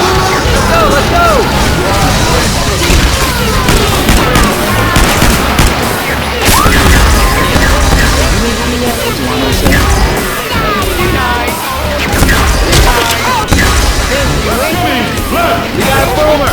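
A pipe bomb goes off amid gunfire in Left 4 Dead 2 on a swamp level, with loud bursts, crashes and rapid shots layered continuously over a dense, chaotic game soundscape.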